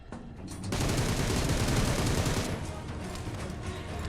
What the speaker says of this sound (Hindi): अब मुझे सामने की साइड से काफी ज्यादा गन साउंड्स आ रहे थे